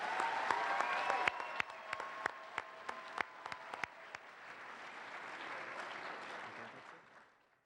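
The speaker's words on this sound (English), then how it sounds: "let us give a round of applause to all our renters tonight" An award ceremony audience applauds throughout, with sharp clapping close by at first and the crowd's applause then fading out near the end.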